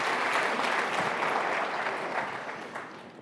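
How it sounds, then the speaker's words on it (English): An audience at a software keynote breaks into loud, dense applause that carries on steadily and fades slightly at the close. "You can clap. Go ahead."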